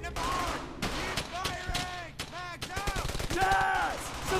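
Bursts of gunfire in the World War II shooter game Brothers in Arms: Hell's Highway, sharp cracks scattered across the clip under loud shouting voices.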